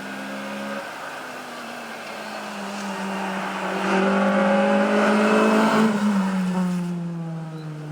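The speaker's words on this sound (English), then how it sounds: "there's a big engine car coming down the hill" A big-engined rally car on a hill stage of the 2019 Mull Rally, its engine note rising and swelling as it approaches, loud at the peak, then shifting down in pitch as it passes and pulls away.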